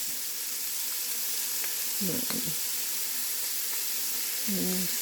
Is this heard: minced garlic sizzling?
yes